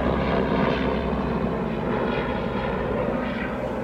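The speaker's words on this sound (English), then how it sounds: "let me check for this aircraft to get over me here" Aircraft passing overhead above a backyard, a loud continuous engine roar with a broad, steady rumble that holds throughout and has no other sounds.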